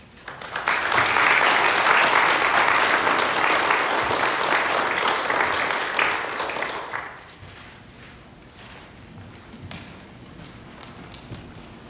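At a Memorial Day gathering, the audience breaks into loud, full applause for the keynote speaker that holds for about seven seconds, then drops off quickly to a few scattered claps and quiet room noise.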